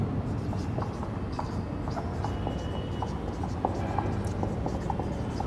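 Pen or marker writing notes during a biology lecture on roundworm anatomy, a steady run of soft scratchy strokes close by over a constant low room hum, with no talking.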